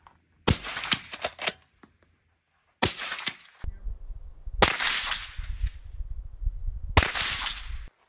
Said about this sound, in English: let's just do 2 rounds of 357